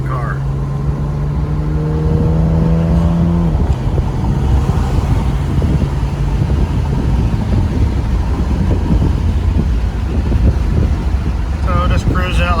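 A 1987 BMW with an inline-six cruises at about 55 to 60 mph, a steady engine drone under road and wind noise, with a falling engine tone early on and faint chirps near the end.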